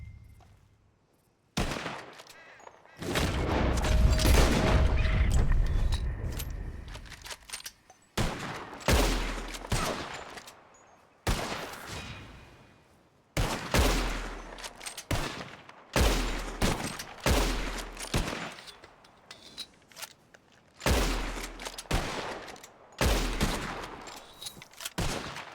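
Bursts of gunfire from a shootout in the video game Red Dead Redemption 2, with a dense opening volley followed by repeated clusters of loud, sharp shots separated by short pauses, with almost no talk.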